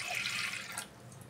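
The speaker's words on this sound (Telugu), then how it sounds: "కుక్కర్లో వాటర్ వేస్తాను." Water is poured into a pressure cooker, a short, soft splashing trickle heard alone.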